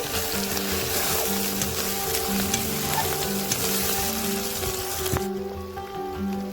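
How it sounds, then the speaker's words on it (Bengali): Ginger, cumin, coriander and red chilli powder fried and stirred in a pan for an elephant-foot-yam curry: a steady, close sizzle with scraping stirs running throughout. "আদা দিয়ে ভালো করে নেড়ে দিয়ে দেব জিরে গুঁড়ো, ধনে গুঁড়ো ও লাল লঙ্কার গুঁড়ো, দিয়ে ভালো করে নেড়ে নেব।"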